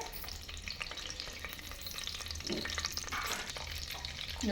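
Whole spices hit hot oil in a pan: bay leaves, marathi moggu, cardamom, cinnamon and cloves. There is a steady close sizzle with light stirring scrapes and crackles and no talking.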